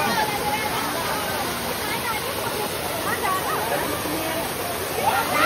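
Tungareshwar waterfall pours down from above in a loud, steady, close rushing roar that fills the whole clip without a break.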